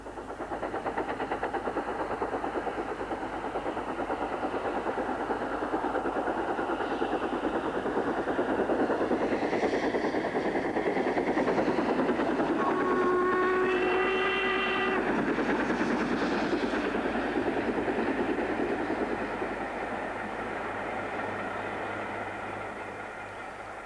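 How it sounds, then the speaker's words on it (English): LMS steam locomotive 46229 Duchess of Hamilton on a test run on the Derby Circle, a rolling rumble of the train that swells as it passes, with a short tonal whistle sounding midway before the noise fades away. "Once again, we see an engine on a test run on the Derby Circle."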